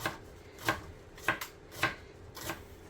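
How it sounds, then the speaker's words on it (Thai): A knife slices an onion thinly on a cutting board for a tuna sandwich, giving five soft, evenly spaced chopping taps, close and quiet. "หั่นเป็นชิ้นบาง ๆหรือใครจะหั่นเป็นแบบเต๋าก็ได้นะ"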